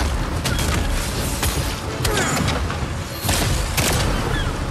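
A large bomb explodes in the video game Lost Ark, producing a loud, dense booming rumble with crackling debris that stays at a sustained roar throughout.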